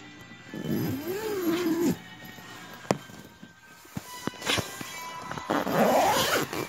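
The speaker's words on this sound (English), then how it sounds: "let me zip it up." A clothing or tent zipper is pulled shut in two strokes a few seconds apart, close and fairly loud, with a couple of sharp knocks in between and no talk.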